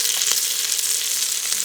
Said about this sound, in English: I'm just going to sear this for like a minute.